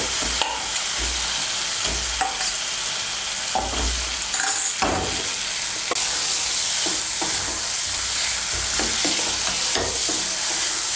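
Fried potatoes stirred into spice masala in a pan for a Bengali fish curry, a continuous sizzle with repeated spatula scrapes and knocks against the pan, close and steady.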